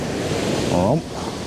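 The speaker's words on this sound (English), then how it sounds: "It's very, very windy still." Strong wind sweeps across the shingle beach at Slapton Sands in a steady, loud, close roar that fills the whole moment, with a brief voice rising out of it midway.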